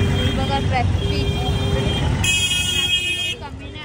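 Busy road traffic in Bhiwandi, a steady rumble of passing cars and buses nearby with a short high car horn or alarm tone partway through, while someone talks over it.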